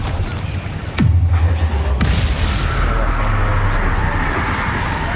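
Confringo fire spell explosions in the wizarding game Hogwarts Legacy: two sharp blasts about a second apart, each dropping into a low rumbling boom, over steady game background noise.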